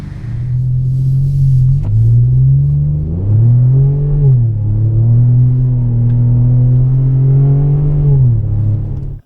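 Chevy Colorado ZR2 engine with a Flowmaster FlowFX exhaust, idling loud and close with a deep rumbling drone, then revved several times so the pitch swells and falls back in smooth sweeps.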